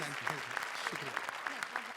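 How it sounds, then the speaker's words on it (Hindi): Applause from a studio audience on a Hindi comedy show, a steady mass of clapping with a few sharp accents, partly under a voice speaking over it. "जोरदार तालियां"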